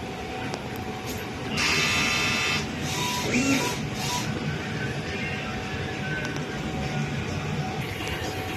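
A DTF printer runs a nozzle check, whirring and buzzing steadily up close as the print head moves, with a louder mechanical passage early on and faint background noise throughout.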